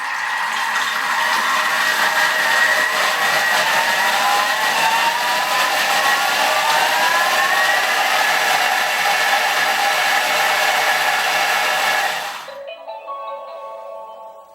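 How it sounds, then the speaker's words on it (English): A Thermomix blends tomatoes, onions and garlic at speed 7 with a loud, steady whirring roar that holds for about twelve seconds, then cuts off abruptly into quieter clicks and rattles. "So that's just blended all of the tomatoes and the onions and the garlic together"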